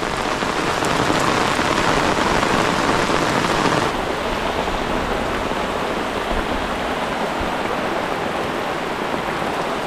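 Heavy rain pours steadily and loudly, a dense continuous hiss of drops pounding a surface with no pauses.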